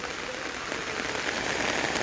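Steady rain pours down, a dense, even hiss of drops pattering on a surface with no pauses and no voices.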